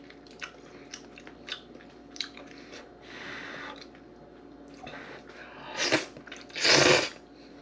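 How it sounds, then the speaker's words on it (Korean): Chapagetti noodles with egg being eaten as a late-night snack, with soft wet chewing and slurping bites spaced out, then two louder slurps near the end. "덕분에 야식으로 짜파게티 먹습니다"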